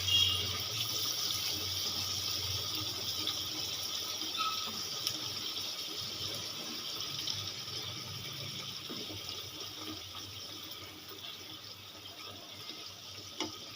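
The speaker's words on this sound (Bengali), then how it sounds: "এবার আমি এখানে অল্প পরিমাণে জল দেব" Water pours steadily into a cooking pan while paneer and pointed gourd are being prepared, a continuous close hiss and splash that holds for over ten seconds without talk.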